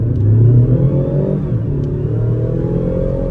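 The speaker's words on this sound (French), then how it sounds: "et là il y a une vraie sonorité qui se fait entendre et la voiture se cabre" Car engine revving hard under full-throttle acceleration in second gear, a loud, sustained roar with rising pitch that dips briefly mid-way before climbing again, close and alone without talk.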